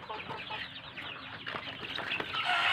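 Cornish chickens cluck in a busy farm flock, overlapping bursts of clucks and squawks at close to middle distance, growing louder toward the end with no talking.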